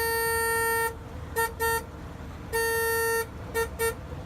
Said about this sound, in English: And then there's the horn, which leaves something to be desired.